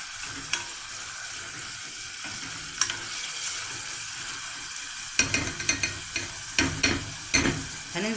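Peppers stirred into a sizzling rice stuffing for stuffed pigeon in a pan: a steady frying hiss, then a run of close spoon scrapes and clacks in the second half.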